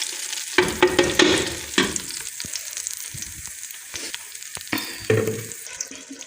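Garlic and ginger paste hits hot oil with whole spices in a pan for a dhaba-style lauki chana dal, sizzling steadily up close with intermittent scraping stirs and clinks.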